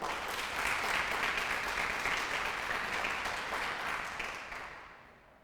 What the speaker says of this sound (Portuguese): Dá um aplauso ao Senhor então aí, vai.